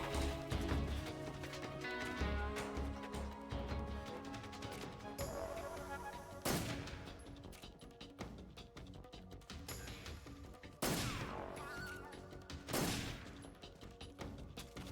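Gunfire in Metal Gear Solid 3, several sharp loud shots and bursts over a dense layer of game music and effects, the cracks spaced a few seconds apart.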